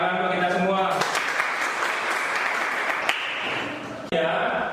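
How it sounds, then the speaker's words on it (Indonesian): A classroom of students claps together in a brief burst, dense and close, between stretches of a teacher's talk at the start and end. "tepuk tangan untuk kita semua"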